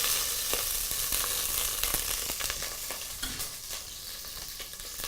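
Butter melts into hot oil in a pot for mutton biryani, a close crackling sizzle with a spoon stirring and scraping through it, steady and unbroken.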